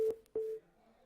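A telephone busy signal sounds on a dropped caller line during a TV call-in show: two short, clear tone beeps, then fading silence.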